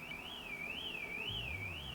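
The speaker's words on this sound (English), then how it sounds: "car alarm?" A car alarm wails in the distance, its siren tone sweeping up and down in a slow steady cycle. It sounds faint and far off over low background noise, with no talking.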